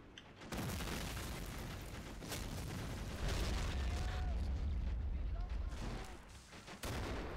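Mortar shells exploding in Men of War: Assault Squad 2, dull booms and crackling blasts repeating under continuous battle noise, with faint voices.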